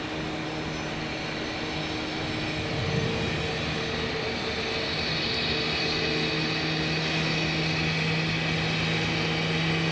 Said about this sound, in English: I hear an A321neo engine